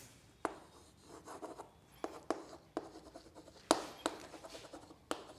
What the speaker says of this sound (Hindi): इफ, पहला पॉइंट लिखते हैं